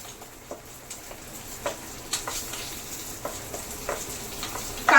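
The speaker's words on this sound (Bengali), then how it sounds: "এবার এর মধ্যে দিয়ে দেব কিশমিশ। জাস্ট একটুখানি নাড়িয়ে নামিয়ে দেবো, কারণ কিশমিশ না খুব তাড়াতাড়ি ফ্রাই হয়ে যায়" Raisins and cashews fry in ghee while being stirred, a soft sizzle broken by scattered spoon scrapes and light clinks at irregular intervals.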